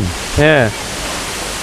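Jeongbang waterfall on Jeju Island, where spring-fed groundwater pours straight into the sea, makes a steady broadband roar. A short spoken word briefly rises above it.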